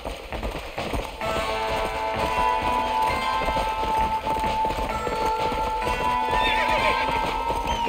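A horse in the Western video game Red Dead Redemption gallops with steady rhythmic clip-clop hoofbeats and whinnies, close and continuous over game ambience, with someone talking over it.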